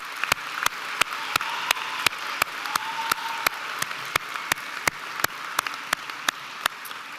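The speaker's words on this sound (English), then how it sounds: "please, a round of applause again." Applause for graduates at a virtual Purdue University Global commencement comes as sharp, evenly spaced claps at a steady beat, like a few hands clapping close by over a quiet room background.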